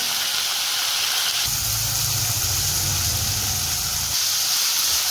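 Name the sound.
peas, cauliflower and potatoes sizzling in hot oil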